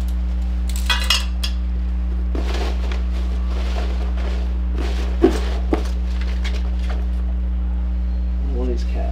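Metal hose clamps from an SVC Offroad front-mount intercooler kit for a 2020 Ford Raptor are handled and unboxed. A few sharp close clinks and jingles rise over a steady low electrical hum.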